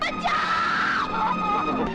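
A woman in a Bollywood film scene lets out a sustained, loud, high-pitched scream that wavers and shifts pitch, continuing without a break over dramatic background sound.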